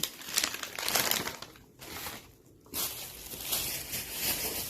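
A plastic shopping bag holding groceries, including packs of oranges and cream cheese, is opened with loud, busy crinkling that runs almost continuously, dropping away briefly twice.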